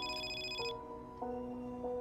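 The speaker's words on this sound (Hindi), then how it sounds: "फिर से फोन आया।" A phone ringtone plays for an incoming call during a GTA 5 stunt race session, a faint electronic melody of repeating tones.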